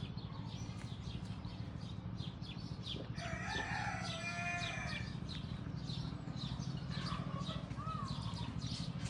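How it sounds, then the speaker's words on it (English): A rooster crows partway through, a drawn-out call over a steady mechanical hum and scattered chirping birds at a distance, in Sintra, Portugal. "The roosters and the peacocks."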